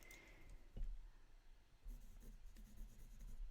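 A thick-leaded pencil scratches out the word hello on a small piece of paper, faint close-up scratching strokes in short bursts with brief pauses between letters.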